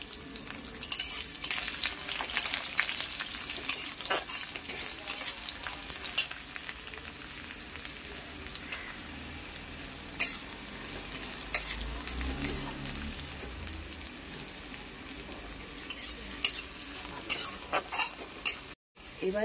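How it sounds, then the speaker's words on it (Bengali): Cumin seeds and spices sizzle and crackle in hot oil in a pan as minced garlic is added, with steady frying hiss and occasional stirring scrapes of a utensil, close and without talk. "কিছুক্ষণ ভাজতে হবে। সেই ভাজার মধ্যে দিয়ে দিতে হবে রসুনের কিমা।"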